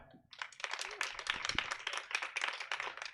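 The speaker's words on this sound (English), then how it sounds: "Give it up to Stab." Audience applause at an outdoor comedy show, a dense burst of many hands clapping that rises after a quiet start and holds steady and fairly loud throughout.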